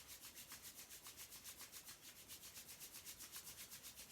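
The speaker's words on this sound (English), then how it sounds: "rubbing the palms of our hands together" Palms rubbed briskly together during a pranayama breathing exercise, giving a close, steady run of rhythmic swishing strokes that continues evenly throughout with no talking.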